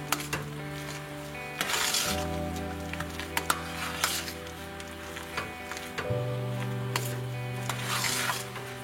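Rice flour batter being stirred in a pan for arisi vadagam, with scraping and rubbing strokes over a steady kitchen hum and a faint sizzle, close and moderately loud, with no talking.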